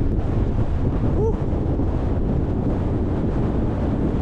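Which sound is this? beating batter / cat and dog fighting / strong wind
strong wind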